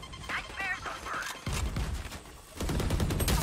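Bursts of gunfire in the tactical shooter Valorant, with clustered shots crackling over ambient game noise, most dense in the final second.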